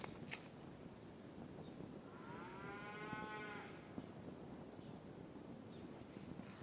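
A single cow moos once in a long, drawn-out low call over constant outdoor background noise, heard at moderate distance with faint clicks and bird sounds around it.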